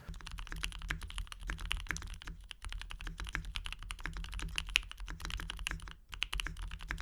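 Rapid, steady clacking of keys on a mechanical keyboard, close and continuous with a brief pause near the end, no voices.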